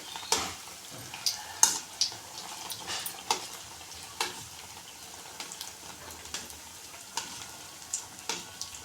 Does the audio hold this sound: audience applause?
no